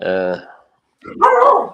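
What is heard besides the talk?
dog barking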